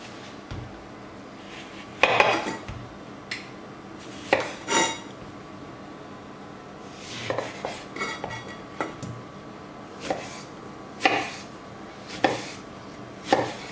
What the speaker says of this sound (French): Je vais couper l'orange.